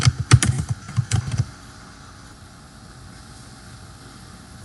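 Quick bursts of key presses on a computer keyboard as a password is typed, a rapid close clatter for about a second and a half followed by quiet room tone.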